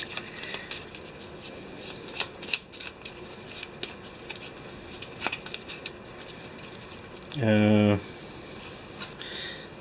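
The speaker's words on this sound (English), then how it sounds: "Shuffle this real quick." A deck of game cards is shuffled during a Mansions of Madness board game session, a short riffling burst near the end, with faint talk and table noise around it.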